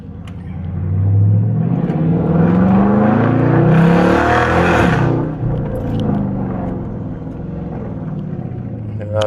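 Dodge Charger RT V8 engine roars as it accelerates away from a driveway, heard from inside the car with a loud, sustained rumbling build that peaks mid-clip and settles into a steady drone.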